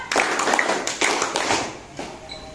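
A classroom of students claps together in a counting game led by a teacher, with about four ragged group claps in close succession, fairly loud and near.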